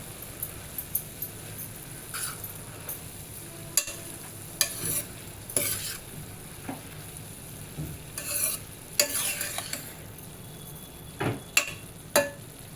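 A spoon stirs cabbage tomato curry in a hot pan, giving scattered scraping clatters and soft sizzling in irregular bursts, close and fairly quiet, with no talking.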